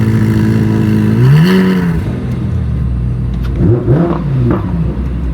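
A Ferrari STO sports car engine revs loudly, rising twice in sharp pitch sweeps over a steady droning rumble, close and continuous with no talk.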